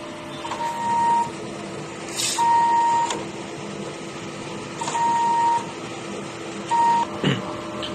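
A DTF printer runs a print head cleaning cycle, with a steady mechanical hum and whirr broken by several short, clear electronic beeps spaced a couple of seconds apart, plus brief bursts of motor noise; no one speaks.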